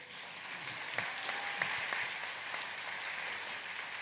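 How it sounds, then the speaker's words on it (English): Summit delegates applaud a head of state in a large hall, a moderate, fairly distant wash of clapping with a few sharper individual claps standing out. "Another round of applause for President Samia Suluhu Hassan."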